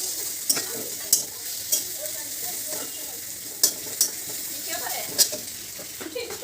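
Ridge gourd and eggplant sizzle steadily in a hot pan with garlic, with sharp clacks of a spatula stirring the vegetables at irregular intervals over the frying hiss.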